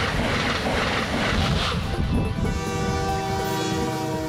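A train rumbles past loud and close with continuous roar and clatter, then a sustained horn blast sounds over the noise in the second half.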